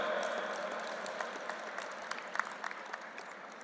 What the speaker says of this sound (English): A big round of applause for him as well.